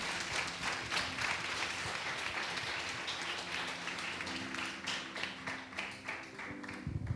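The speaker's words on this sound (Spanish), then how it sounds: "Den un aplauso al Señor." A church congregation applauds during a sermon, with sustained dense clapping and scattered taps for about seven seconds and a faint hum of voices underneath.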